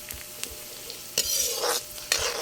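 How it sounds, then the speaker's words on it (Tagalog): Bopis, a chopped pork lung dish, fries in a pan while being stirred, with a steady sizzle and a few louder scraping stir bursts; no one talks. "Halo-haloin natin. Para di masunog."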